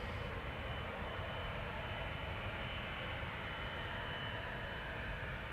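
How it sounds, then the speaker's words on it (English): A Boeing 777-200 wide-body jet departs Schiphol, bound for Paramaribo, as a steady distant roar of engines that stays broad and even throughout, with no talking. "Got our first wide body coming this way. This is a 777-200"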